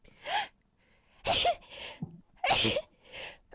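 Several sharp sneezes in quick succession, each burst loud and close, with brief quiet gaps and breaths between them.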